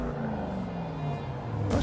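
Engine of a wide body Lamborghini Urus in race mode with downpipes, a loud continuous rumbling growl with a slowly shifting tone, close by, ending in a sharp burst.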